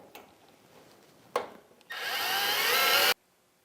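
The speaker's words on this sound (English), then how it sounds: "we'll take one of the self-tapping screws and drive that in" Power driver sinking a self-tapping screw into the water-cooling tray of a MAG-8200 lawn mower blade sharpener: a couple of clicks, then one steady whirring burst of about a second that stops abruptly.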